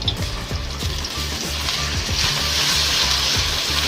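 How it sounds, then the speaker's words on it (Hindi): Ginger-garlic paste frying with onions in a pan for a khaskhas (poppy seed) masala gives a steady, close sizzle, with faint, regular scraping or stirring underneath that grows slightly louder toward the end. "इसको भी फ्राई करेंगे अच्छे से।"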